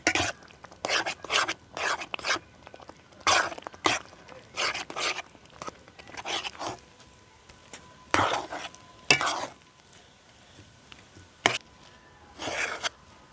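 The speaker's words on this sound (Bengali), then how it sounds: "এবার এই সুজিটাকে খুব ভালোভাবে মিশিয়ে একটা ডো তৈরি করে নেব।" Semolina being stirred into a dough in a pan over low heat, with a steady run of scraping, stirring strokes in irregular bursts, close and fairly loud, no talking over it.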